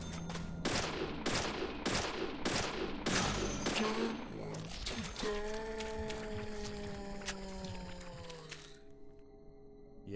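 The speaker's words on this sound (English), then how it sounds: "You're not gonna come after me here with friggin' gunshots in here?" Loud rapid bursts of video game gunfire fill the first half, then give way to sustained electronic tones that fade out.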